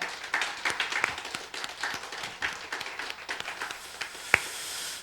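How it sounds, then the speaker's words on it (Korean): A church congregation claps together at a New Year's Eve service, with a steady patter of many hands that fades slightly at the end, while faint talk sits underneath. "우리 박수 한번 보냅니다"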